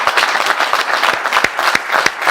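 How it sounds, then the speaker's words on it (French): A studio audience on a Congolese sports talk show applauds a strongman figure, with loud, dense clapping and a few sharp, distinct claps standing out near the end. "Est-ce qu'on peut l'applaudir,"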